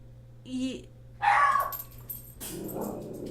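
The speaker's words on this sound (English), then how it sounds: "my dogs are barking" Several pet dogs bark indoors in a home: a few sharp, close barks and yips in quick bursts, with a growly, whining edge between them.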